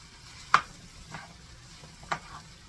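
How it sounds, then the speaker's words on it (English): Ground beef and potatoes being stirred in a single pan: three short scraping strokes of a utensil, spaced about a second apart, rise over a faint background sizzle, with no talking. "we're going to get that stirred in there"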